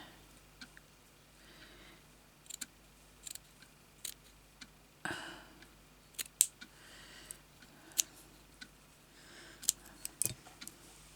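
Scissors snip through a paper tag in short, irregular cuts, crisp and close, with pauses between bursts and a louder run of snips toward the end; quiet room, no talking.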